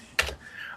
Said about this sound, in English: Sorry for the typing, folks.